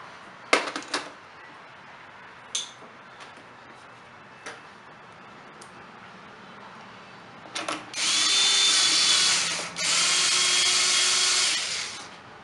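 A STIHL BR420 Magnum backpack blower is reassembled with its cover and starter refitted: a few sharp clicks and taps, then two sustained bursts of a nearby power drill, loud and alone.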